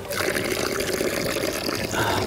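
Water running from a village spring in Greece, a steady close splashing and trickling flow that continues without a break.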